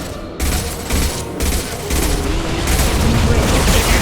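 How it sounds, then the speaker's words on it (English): Rapid bursts of gunfire and heavy booms in Mass Effect 2 combat, loud and near, crackling in dense repeated volleys with no speech over them. "Taking heavy fire!"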